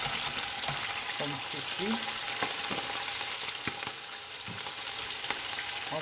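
Smoked fish and onions hit a hot pan and sizzle steadily, with stirring scrapes and clinks close by while a voice speaks briefly in French.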